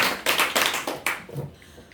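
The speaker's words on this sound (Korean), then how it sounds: "다시 박수 3번 시작" Students in a Korean English classroom clap their hands together in unison, a short series of sharp claps in steady rhythm that fades away after about a second.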